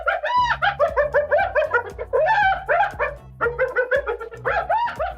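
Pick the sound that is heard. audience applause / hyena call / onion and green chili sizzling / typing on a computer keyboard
hyena call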